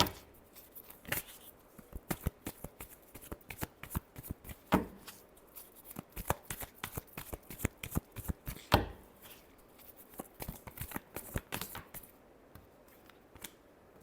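Tarot cards are shuffled by hand in a long run of crisp riffling bursts and slaps, close and fairly quiet, with a few louder snaps scattered through.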